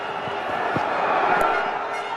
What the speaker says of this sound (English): Indian crowd going off too